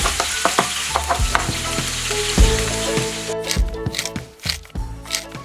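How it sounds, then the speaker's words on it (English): Shrimp hitting a warm pan for shrimp piccata, a loud close sizzle with clinks and rattling as the pieces are tossed and spread, no voices. "Looks like the pan is warm enough, so let's toss the shrimp in there"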